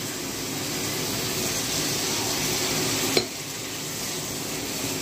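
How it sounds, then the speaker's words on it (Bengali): Prawns stir-fried in spice paste sizzle steadily in a hot pan, a loud continuous hiss with one brief clink of a utensil partway through. "চিংড়ি মাছগুলোকে আমি মশলার সাথে একটু কষিয়ে নেব।"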